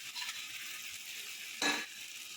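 Cashew nuts dropped into a hot pan of simmering potato curry give a steady soft sizzle, with one brief louder hiss near the end as they hit the oil; no talking.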